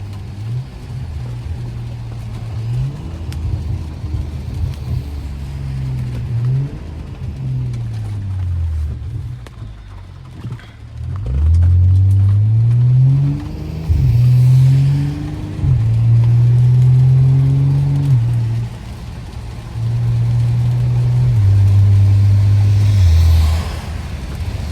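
Straight-piped BMW F10 sedan cruising on a road at night, its deep exhaust drone rising and falling with throttle, loud and steady throughout with swells as it accelerates.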